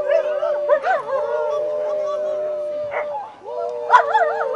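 A greyhound howls on command in long, wavering, tuneful cries broken by short yips, loud and close, with a human voice mixed in among the howls.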